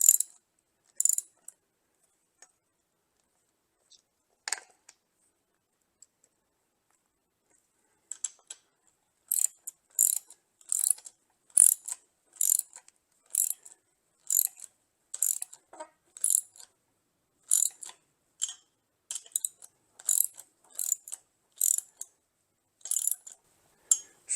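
Clamp bolts on a Worksport AL4 flip-up hard tonneau cover are tightened, giving sharp ratcheting clicks in short bursts, sparse at first and then quick and regular, close and clear with no talk.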